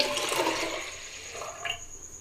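Water, about 2.5 to 3 liters, rushes and splashes into a metal pressure cooker in a steady pour for beef haleem, fading toward the end with a brief gurgle, close by.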